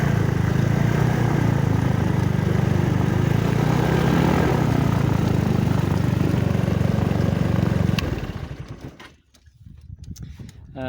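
The engine of a Discus 15T glider with a Bailey V4 runs loudly and steadily at close range for about eight seconds, then cuts off abruptly, followed by quieter handling noises.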